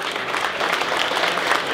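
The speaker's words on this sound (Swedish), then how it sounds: "jag hör en till rungande applåd" Loud, close applause from a crowd at a car show unveiling at Elmia, a brief dense burst of clapping.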